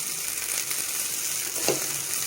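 Namkeen sev being heated in a pan, a steady soft sizzling and rustling crackle throughout, close and continuous, with a faint scrape near the end.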